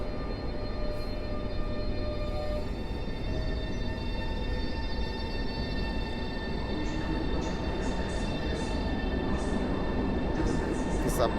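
A locomotive starts to move at Warszawa Centralna station with a snow-dusted nose, a continuous low rumble with sustained electrical whine and tonal hums, moderately loud and steady.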